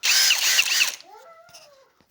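A milling cutter shapes the body of a Honda Dio carburetor, a loud high whine for about a second that cuts off, leaving a fainter tonal whirr of the tool spinning down.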